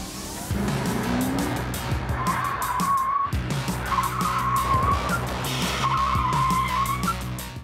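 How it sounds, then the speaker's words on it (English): The presidential limousine known as The Beast speeds in reverse and spins around in a J-turn, its tires squealing and skidding in long wailing bursts over a loud, rumbling engine. "The J-turn requires an agent to accelerate in reverse at over 50 miles an hour, and then by cutting the wheel, a car can spin around"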